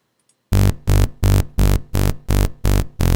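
A synth bass from FL Studio, played dry without overdrive or distortion, pulses in eight loud, even, repeated notes with short gaps between, each buzzy and harmonically rich, following a brief quiet lead-in.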